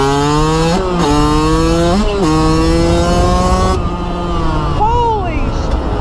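A new dirt bike rides fast down a paved road, its engine loud and close, revving through several rising gear pulls with brief drops between shifts.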